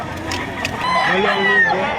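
Chickens crow at the Padre Garcia Batangas livestock auction market, several calls overlapping at mid distance over a busy crowd with people talking nearby.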